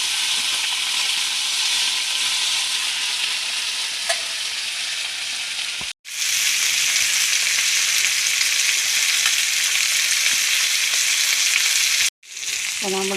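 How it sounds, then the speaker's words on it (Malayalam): Kora fish frying in hot oil, a steady loud sizzle that fills the scene, briefly cut off twice by short silences. "അപ്പോൾ നമ്മുടെ മീൻ വറുത്തത് റെഡിയായി"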